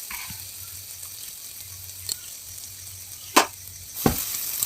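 Fish oil curry fries in a pan with a low, even sizzle. Three distinct spatula scrapes cut through it, the last two louder and closer together toward the end.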